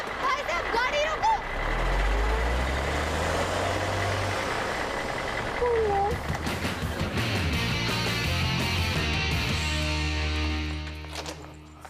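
A truck engine idles with a low, steady rumble while reversing beeps repeat, and voices and street noise mix over it before the engine fades at the end.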